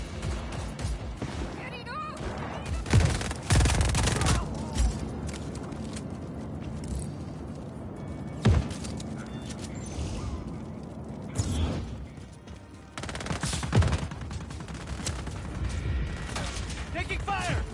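Gunfire in the Just Cause 4 video game, with bursts of shots and heavy impacts coming in clusters over a busy background of game sounds, and voices speaking at intervals.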